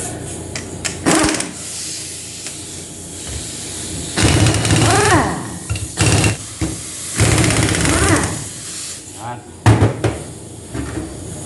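An impact driver with a 19mm socket rattles off bolts on the 4WD differential of a Hyundai Tucson or Santa Fe, in several loud buzzing bursts separated by pauses, with someone talking in between.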